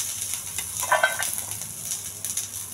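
Oil sizzles in a pan as mustard seeds, cumin, garlic, curry leaves and dried red chillies fry, a faint, steady crackling hiss with small spattering bursts.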